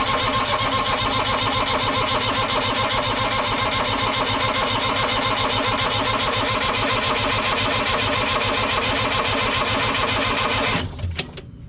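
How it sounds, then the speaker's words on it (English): Diesel engine of a New Holland LS125 skid steer cranking on its starter without firing, a loud fast steady chugging rhythm that runs on for about eleven seconds and then cuts off abruptly with a clunk. "Unfortunately, the starter is running longer than I would like"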